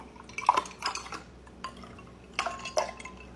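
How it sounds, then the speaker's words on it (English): Ice and liquid being strained from a drink with lime into a serving dish, heard as a few close clinks and splashes with brief drips between them, no voices. "Now we're gonna strain into our salad serving dish."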